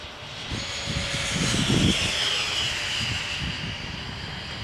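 A FreeWing A6 Intruder RC jet's electric ducted-fan engine held at half throttle, a steady whooshing whine that swells slightly midway, heard outdoors at moderate distance.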